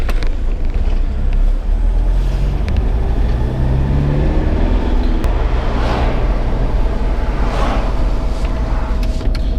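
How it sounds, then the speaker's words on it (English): A 2009 Toyota Hilux 4x4 pickup driving along, with a steady low engine drone and road rumble continuing throughout, heard from inside the cab with no talking. "Let's just go for a quick drive and let's have a chat."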